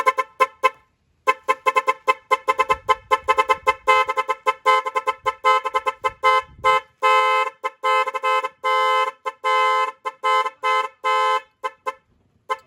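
Repeated electric motorcycle horn beeps, short bursts and longer blasts in an irregular pattern, loud and close, with no talking.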